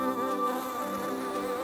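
Bees buzz in a steady, close drone with a tonal hum that holds level and unbroken, with no voices.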